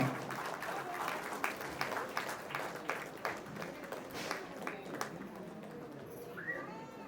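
An audience claps for the artists after a stage drama about Dr. B. R. Ambedkar's life, a quiet, somewhat distant patter of applause with uneven rhythm that thins out toward the end.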